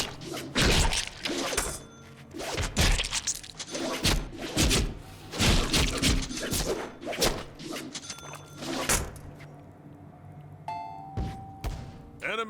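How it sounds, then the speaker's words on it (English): Light and heavy melee attacks land on enemies in a brawler video game, a dense run of loud thuds, smashes and shattering impacts in quick irregular succession, tapering near the end into a brief electronic tone. "mix our light and heavy attacks together and see what happens"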